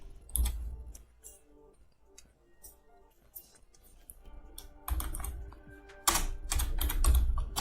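Code being typed on a computer keyboard, with bursts of rapid, close key clicks that give way to quieter sparse taps before the fast typing picks up again, and no talking.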